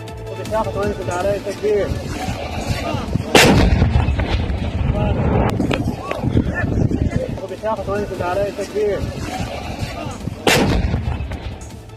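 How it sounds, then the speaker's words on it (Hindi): Towed MM-30 howitzer artillery firing shells in the Panjshir valley, heavy booming blasts near 3.5 and 10.5 seconds standing out over a dense rumbling field background with voices in the mix. "पंजशीर घाटी में तालिबान ने MM-30 होवित्जर तोप से गोले दागे।"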